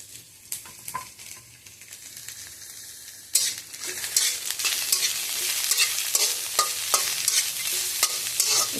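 Capsicum drops into a hot pan and starts crackling and sizzling, with scraping stir strokes; it begins quiet and swells into a loud, steady fry close by, with no talking.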